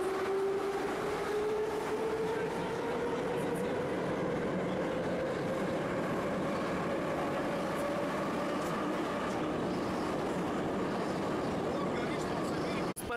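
Steady rumble of a metro train in motion, with a rising whine from the motors and faint voices talking beneath the noise.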